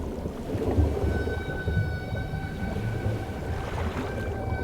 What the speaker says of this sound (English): Most famously, as in the song of the humpback whale.